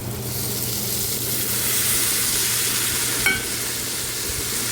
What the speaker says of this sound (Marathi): आता हे सगळं मी मसाले व्यवस्थित परतून घेणार आहे तेलामध्ये